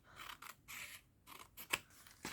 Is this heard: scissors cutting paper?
yes